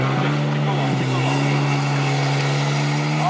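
Jet ski engine droning steadily on open water, a loud continuous motor hum with wind and splashing, while people talk nearby.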